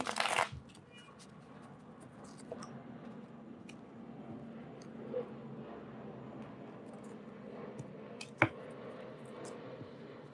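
Cards riffle softly in a quick burst at the start, followed by quiet handling sounds and a sharp snap near the end.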